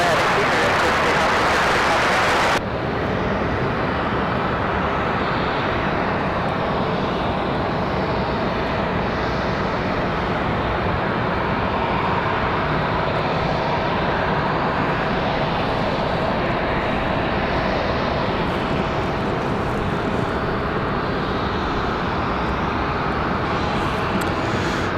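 A jet airliner takes off at night at Raleigh-Durham airport, a sustained broad engine roar heard from a distance that stays steady and loud after a brief louder burst at the start.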